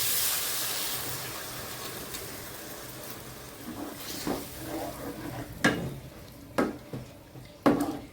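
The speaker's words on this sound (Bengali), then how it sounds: "আর মশলা দেওয়া বাটার মধ্যে আমি একটু জল দিয়ে দিচ্ছি।" Spice paste fried in a pan for a Bengali rui fish kofta curry, with water added, sizzles and hisses steadily, with a few sharp louder spits and stirring scrapes toward the end.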